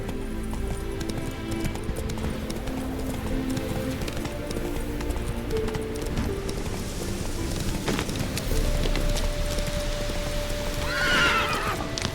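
A horse gallops in The Witcher 3, its steady clip-clop of hooves running throughout with neighs and whinnies, over game music and a light patter of rain.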